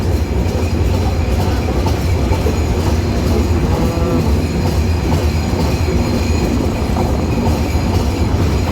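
The Nilsagar Express thunders through Hyderabad railway station without stopping, a loud, close, continuous roar of wheels and carriages with rhythmic clatter and faint squeal throughout.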